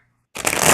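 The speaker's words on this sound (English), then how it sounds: "Let me shuffle again," Tarot cards being shuffled by hand, a short quick riffling burst that starts abruptly after a moment of silence, close and fairly loud.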